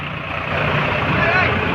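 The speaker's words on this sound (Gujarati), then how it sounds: "સોનાલિકા બે ટ્રેક્ટર નીકળી ગયા" Steady, loud diesel rumble of two Sonalika tractors pulling away close by in the rain, continuous and droning, with faint voices underneath.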